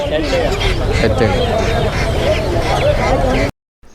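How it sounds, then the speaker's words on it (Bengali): Domestic ducks quack busily up close amid a noisy crowd of voices at a village market, the calls overlapping continuously before the sound cuts out. "আর এটা কি হাঁস দেশি হাঁস"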